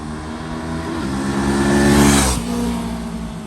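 Engine of a 2021 VOGE 500AC motorcycle while riding, a steady, droning hum that swells as the revs build, then drops back after a gear change, loud and close.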